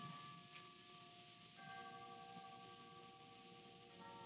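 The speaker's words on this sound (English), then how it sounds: "Only the chimes of the hall clock. It's striking the three-quarter hour." Chimes of a hall clock striking the three-quarter hour, a radio drama sound effect from 1937, with faint sustained bell tones ringing and overlapping softly against a hissy background without any voices.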